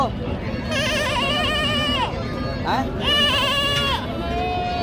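Goats, including a small African Teddy, bleat at a crowded livestock market: several wavering, nasal bleats rise loud and close over a constant crowd murmur and talk.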